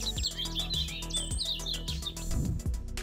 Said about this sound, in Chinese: 连鸟儿都在祝福他。